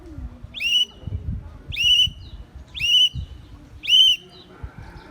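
A whistle blows four short, evenly spaced bursts over a low rumbling background, spelling out the Morse letter H.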